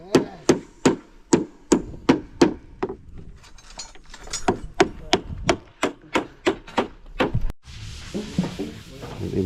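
A carpenter drives nails with a hammer on a house project, a steady run of sharp, close metallic blows in quick rhythm, pausing briefly midway, then resuming before a short noisy rustle at the end.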